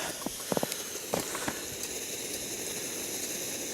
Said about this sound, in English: So the Coleman single burner stove is working out pretty good.